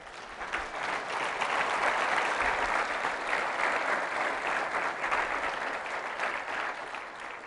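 Church congregation applauding continuously and steadily, a dense wash of many hands clapping at moderate loudness throughout, no one speaking over it.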